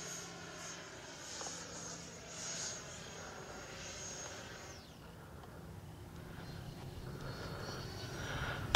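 A 90mm EDF RC jet, an E-flite Viper or Freewing Zeus, flying, a steady high ducted-fan whine that sweeps downward as it passes, then returns more faintly in the distance, with no voices.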